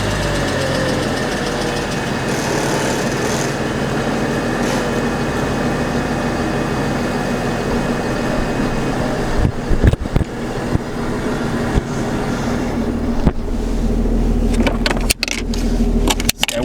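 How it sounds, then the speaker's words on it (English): A Mercedes CDI turbo diesel engine idles steadily after a cold start with a constant low rumble and a faint clatter, heard up close. Some jangling and clicks come near the end. "let's jump off the CDI and get our first diesel cold start"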